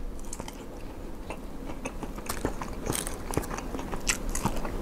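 Crunchy bites and steady chewing of Ubon-style moo yor pork sausage, close and continuous, with sharp crackly bites breaking through soft mastication sounds and no talking.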